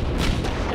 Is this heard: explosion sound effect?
yes